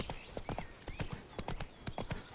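A horse's hooves clop in a steady, brisk rhythm while it is ridden in The Witcher: Wild Hunt, close and clear with no talking over them.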